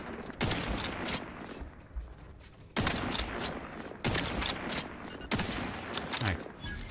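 Rapid bursts of gunfire blast at a creature in a space video game, four loud volleys of dense, crackling shots each starting abruptly and sustaining, with no talk over them.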